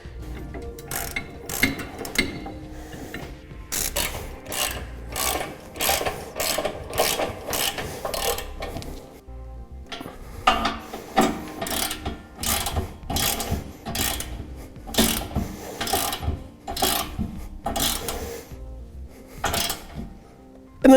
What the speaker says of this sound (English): we can go ahead and tighten it all down.